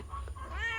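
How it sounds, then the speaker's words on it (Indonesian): A pet cat gives a single short, faint meow that rises in pitch, heard close amid a quiet yard with chickens. "Ada ayam, ada kucing namanya Yen."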